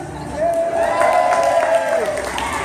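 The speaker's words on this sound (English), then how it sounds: "It's good to see children clapping for beer out there" A sideshow crowd at a Fright Nights horror show claps and cheers, a fairly loud wash of applause under a long, sustained vocal tone that swells in the middle and trails off.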